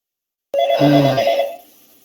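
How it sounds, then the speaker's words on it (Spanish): A telephone bell rings once in a quiet room during an online class, a bright trilling burst of about a second that fades out, with no talk over it. "El teléfono lo van a atender abajo, así que no se preocupen."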